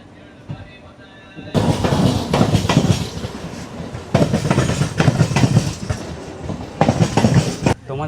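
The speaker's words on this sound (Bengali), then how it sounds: "আমাদের ট্রেন কিন্তু 2 মিনিট লেট করে শিয়ালদা স্টেশন থেকে ছেড়ে দিয়েছে আর রওনা দিয়ে দিয়েছে তার গন্তব্যের দিকে" Kanchankanya Express rolling out of Sealdah station, heard from inside as a loud rumbling clatter of wheels on track that starts after a quiet moment and continues in bursts, with brief dips between.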